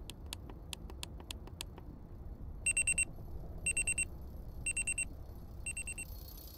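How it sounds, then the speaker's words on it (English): In the game Amanda the Adventurer, an alarm clock goes off in short bursts of rapid shrill beeping, four separate rings spaced about a second apart after some faint ticking clicks, close and clear without talk. "Do I set off all the alarms?"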